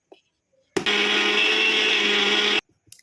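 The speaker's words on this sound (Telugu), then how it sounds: "కొబ్బరి కొడుకులు వేసింది, మిక్సీ పడతాను." A mixer grinder grinding coconut whirs loudly for about two seconds, starting and stopping abruptly, with brief quiet moments before and after.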